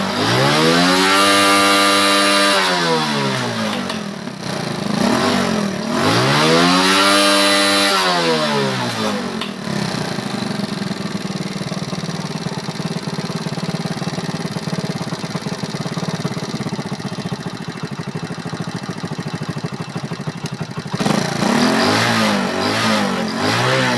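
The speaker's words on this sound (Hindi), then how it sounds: "ऐसा ऐसा रेस दे के चेक कर लिया करें, कहीं पे मिसिंग ना करे" A motorcycle engine is started and revved to check the carburettor adjustment. It is loud and close, rising twice in strong revving sweeps, then running steadily at high speed before revving up again near the end.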